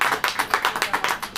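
A congregation claps at a church sermon, about ten quick, even claps spaced roughly a beat apart, moderately loud and close, with no talking over them.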